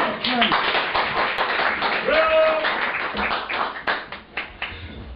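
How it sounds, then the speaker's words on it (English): Audience applause at a poetry reading: a steady wash of many hands clapping, with a few voices calling and whooping over it before the claps thin out into scattered, louder single claps near the end. "Big round of applause"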